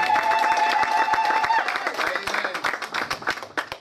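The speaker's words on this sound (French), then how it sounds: "Can we give to the Lord a good acclamation?" A church congregation applauds and claps in a dense, sustained burst that rises and then thins out, with a steady tone and some voices running underneath.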